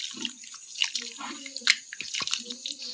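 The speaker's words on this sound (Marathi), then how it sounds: "एकदम स्वच्छ धुवून घ्यायची. वापस एकदा आपण धुवून घेऊ." Bamboo shoots are rinsed by hand in a vessel of water, giving close, irregular splashes, sloshes and wet squishes in short bursts.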